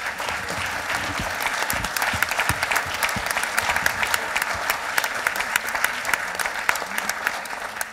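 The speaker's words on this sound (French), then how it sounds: "Bravo, on les applaudit encore une fois." Sustained audience applause fills a hall at an award ceremony presenting Internet labels to towns and villages, steady dense clapping throughout with scattered louder claps and no talk over it.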